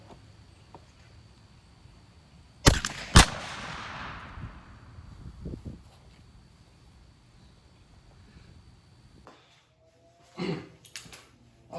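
28 gauge Winchester Xpert 3-inch steel shotgun shell, 3/4 ounce of number 4 shot through a modified choke, fires in two sharp, loud blasts close together outdoors, followed by a fading echo and quiet ambience.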